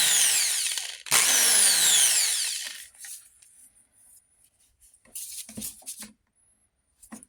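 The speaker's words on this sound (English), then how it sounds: "So yeah, there's the right angle drill." A vintage Harbor Freight right-angle power drill whines loudly at close range, its pitch sweeping as it spins up and down, then a few shorter bursts follow after a brief pause.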